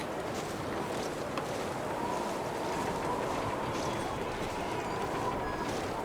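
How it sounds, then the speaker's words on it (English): Steady howling wind in the survival video game The Long Dark, a continuous broadband rush that stays loud and even throughout with no talk over it. "Okay, it's still windy as heck."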